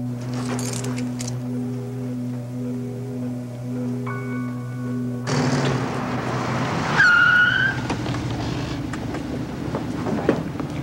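A Ford Mustang starts up and drives off, its engine rising from a steady low idle hum into a louder revving pull-away with a short tyre squeal, heard close and alone without talk.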